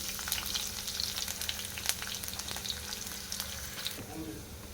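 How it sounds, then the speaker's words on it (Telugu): Onions sizzling in hot oil in a kadai, a steady dense crackle throughout with a faint stir near the end. "కొద్దిగా ఆయిల్ వేస్తున్నాం కొన్ని ఆనియన్ వేస్తుంది"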